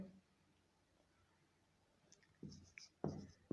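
A pen scratches across paper while a maths problem is written out, quiet at first and then in short bursts of strokes near the end, with a voice speaking faintly.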